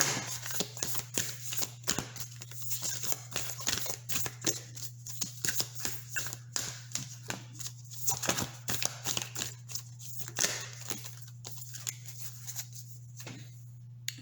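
Oracle cards are shuffled close by for a weekly collective card reading, giving rapid dense riffling and flicking rustles in irregular bursts over a steady low hum, with no voice.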